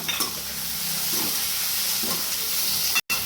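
Chopped onion and soaked moong dal fry in hot oil in a pan, giving a steady loud sizzle and hiss with faint stirring, close by, with no talk and a brief cut near the end.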